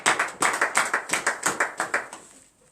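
About a dozen brisk hand claps in steady rhythm acclaim the Lord during a French morning prayer, close and crisp before trailing off into quiet.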